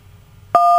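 A single telephone keypad tone from a key pressed during an automated call, a short quiet hum followed by a sudden steady electronic beep that holds to the end.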